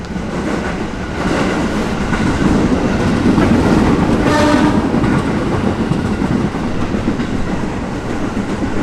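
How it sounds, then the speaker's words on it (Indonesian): A commuter train rumbles past up close with steady rolling noise and faint rhythmic clatter, swelling slightly midway before easing off, no voices. "Suaranya masuk. MRT. Ini mah komuter lah. Komuter."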